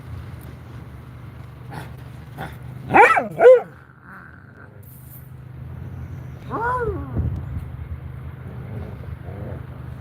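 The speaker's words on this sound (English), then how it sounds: "There's a total of 5 dogs out here" Several dogs out in a yard give a couple of loud, sharp barks, then a longer stretch of growling and whining bark-like vocalizing at mid distance, over a steady low hum.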